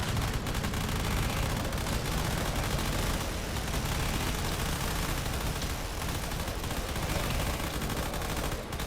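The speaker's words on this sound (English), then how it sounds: "there's another explosion on the battleship there" Explosions on a battleship amid rapid gunfire in a space battle game, a loud, unbroken wall of machine-gun-like shooting with rumbling blasts mixed in, no talking.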